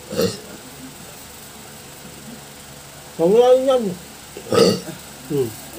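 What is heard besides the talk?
hiccups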